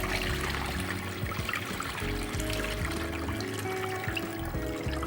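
Starchy rinse water tipped off washed sushi rice, giving a continuous close trickle and pour of water with no talk over it.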